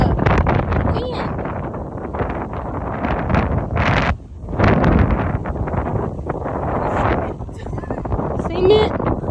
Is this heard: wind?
yes